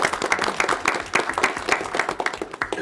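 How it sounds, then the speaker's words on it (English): A board meeting audience gives a round of applause, a loose, scattered patter of individual claps with distinct sharp hits rather than a dense roar, steady across the few seconds. "So if you give them a round of applause for those amazing proposals and recommendations."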